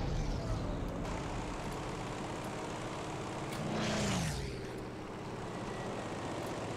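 A plane flies in the shooter game Battlefield 5: a steady propeller-engine drone that swells briefly as the aircraft passes close, then settles back to a constant hum. No one speaks.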